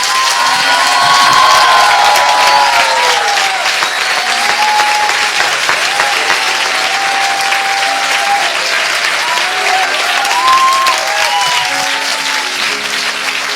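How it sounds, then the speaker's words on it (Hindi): Church congregation applauding loudly with cheering and shouts mixed in, sustained thick clapping with voices calling out over it from start to finish. "आइए यीशु के लिए एक अच्छी ताली बजाएं।"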